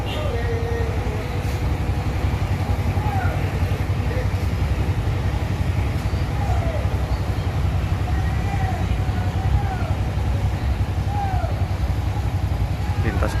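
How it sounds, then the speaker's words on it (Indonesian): A Sempati Star intercity bus pulls away, its engine giving a steady low rumble close by throughout, with faint chirps and background noise layered on top. "Oke ya, bus langsung berangkat."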